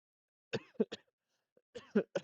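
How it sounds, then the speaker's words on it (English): Two short clusters of coughing, each a quick series of three harsh coughs, close and dry, separated by a brief pause. "I cough."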